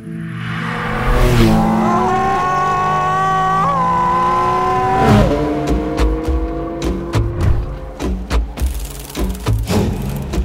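Porsche 718 Spyder RS open-top sports car driving, engine note rising steadily with gear changes, then a sharper burst of revving and brief thumps, loud and close with no talking.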